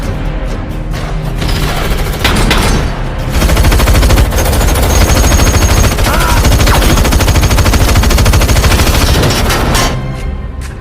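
Dense, loud gunfire fills a mafia film shootout, with rapid automatic bursts and single heavy shots rattling almost without pause and a low rumble of booms underneath, then tapering off at the end.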